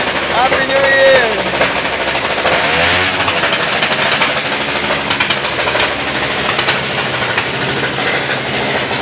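Fireworks crackle and pop in rapid, dense bursts at New Year, like a string of firecrackers, with people talking and shouting underneath.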